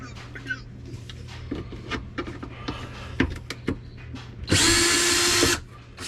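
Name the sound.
power tool removing bolts under Toyota FJ Cruiser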